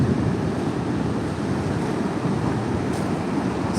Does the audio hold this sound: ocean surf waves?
yes